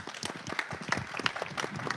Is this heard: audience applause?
yes